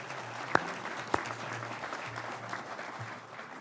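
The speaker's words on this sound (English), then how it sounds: "How about a round of applause for my fellow Alaskans?" Applause for a group of Alaskans at a Senate Veterans Affairs Committee hearing, moderate and steady clapping in a hearing room, with two sharp knocks early and a low hum underneath.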